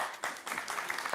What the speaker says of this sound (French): il peut vous applaudir